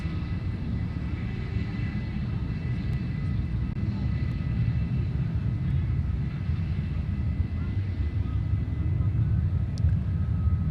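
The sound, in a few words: F-22A fighter jets at Honolulu airport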